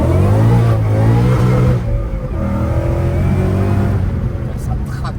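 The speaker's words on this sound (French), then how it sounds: "Et regarde quand on accélère." An 825 hp Ford Mustang revs and accelerates hard, its engine roaring close and loud with rising harmonic pitch, then settling into a steady drone with a voice talking over it.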